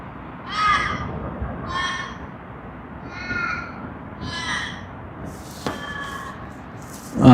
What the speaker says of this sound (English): I'm not too sure why that bin chicken or perhaps any other bird, whichever bird that is making such noise.